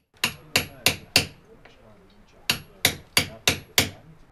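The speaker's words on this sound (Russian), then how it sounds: "Орудиями каменщиков служат кирки, молотки и зубила." Stonemason's hammer striking a chisel into stone during traditional stone dressing, two bursts of sharp metallic blows, four then five, evenly spaced and close, with a brief pause between.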